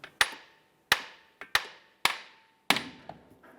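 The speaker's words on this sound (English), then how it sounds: "we're going to go ahead and tap the aluminum here" Sharp metallic hammer taps hit the aluminum transmission mount housing of a 2012-2017 Toyota Camry, about six close, ringing strikes at an uneven pace with brief decays between them.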